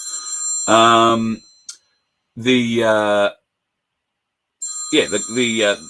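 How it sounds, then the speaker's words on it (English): A telephone rings somewhere out of reach, sounding in three loud, tonal bursts with silent gaps between them. "That'll be somebody ringing me and the phone's too far away to reach"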